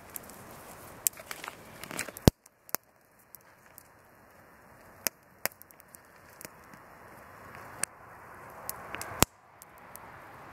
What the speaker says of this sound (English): It's the fireplace channel. It's the sound and everything, it's so realistic.